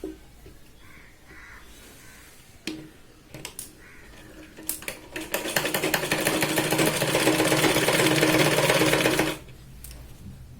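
A sewing machine runs a fast continuous stitching burst for several seconds while topstitching the waist of a Katori blouse, with quieter starts and handling noises before and a sudden stop near the end.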